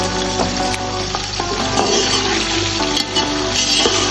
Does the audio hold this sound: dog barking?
no